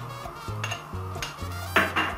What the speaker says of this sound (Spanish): Movemos ligeramente para que sea uniforme también todos los ingredientes.